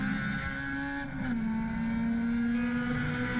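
Race car at the 2022 SCCA Runoffs holding a high, steady engine note with a brief dip before settling again; the engine seems not to reach the top of its rev range and breaks up slightly, and no voices are heard.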